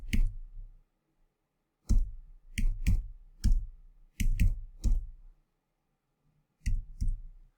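An IP address typed on a computer keyboard, heard as close, crisp key clicks in short irregular bursts separated by pauses, with no talking.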